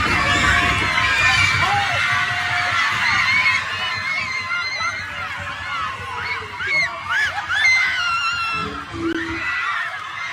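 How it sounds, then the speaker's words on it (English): Crowd of kids screaming and shrieking excitedly as a celebrity walks in among them, a dense, loud wall of high-pitched voices with overlapping yells and squeals throughout. "every kid started screaming"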